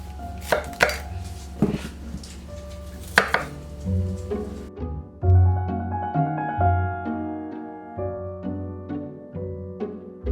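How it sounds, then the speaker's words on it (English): A knife cuts broccoli into florets on a cutting board, sharp close chops at first and then lighter irregular knocks and taps. "And I gotta cut it into florets."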